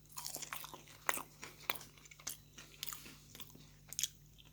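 Someone bites and chews homemade sweet potato fries, with crisp crunches and soft chewing sounds coming in irregular bursts close to the ear.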